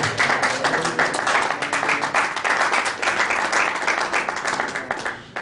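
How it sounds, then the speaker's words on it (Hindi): A church congregation claps together to thank God, with steady, dense applause that stays even and moderately loud throughout. "ताली बजाकर परमेश्वर को धन्यवाद करें।"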